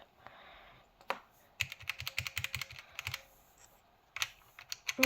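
Typing on a Redragon Akali computer keyboard, with bursts of close, crisp key clicks in quick runs separated by short pauses, fairly quiet and with no talking.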